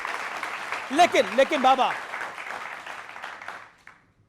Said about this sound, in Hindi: इसके लिए वाकई जोरदार तालियां आपके